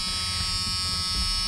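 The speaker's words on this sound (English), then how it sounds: "let that buzzer go out" A steady electric buzzing drones without pause, harsh and even, with a low rumble beneath it, from a diesel pickup's glow-plug wait buzzer before a cold start.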